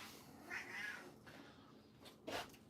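A house cat meows quietly in a kitchen where pizza is being made, giving a drawn-out cry followed by a second shorter, sharper meow a moment later, with no talking over it.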